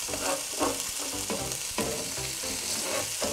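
Minced garlic sizzles and toasts in a hot pan, a dense, steady crackling fry with small stirring scrapes, heard up close with no talking.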